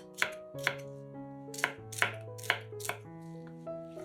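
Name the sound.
chopping sweet bell peppers into pieces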